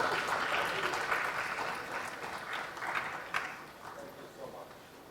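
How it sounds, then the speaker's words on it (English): Sustained audience applause at the Kalinga Literary Festival 2019, a dense crowd clapping steadily that gradually thins and softens toward the end, with a few scattered voices mixed in. "let's have a huge round of applause for Mr. Santrupt Misra."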